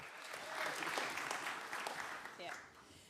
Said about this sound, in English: An applause for that as well.